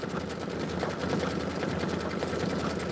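A Kimberbell multi-needle embroidery machine stitches at speed, a fast, steady mechanical rattle of needle strokes, even and continuous up close.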